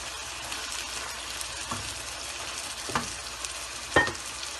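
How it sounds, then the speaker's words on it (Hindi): Frying qeema crackles steadily in a pan as chopped capsicum goes in, with a few distinct clanks and scrapes of a spoon over the constant moderate sizzle. "अब इसमें डालेंगे शिमला मिर्च जो हमने काट ली थी"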